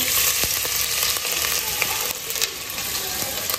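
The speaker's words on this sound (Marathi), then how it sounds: "तेल म्हाजें गरम जालें. सो घालता मातशें जिंजर" Ginger hits hot oil and fries with a bright, loud crackling sizzle, close up, with scattered pops and light stirring sounds and no talking.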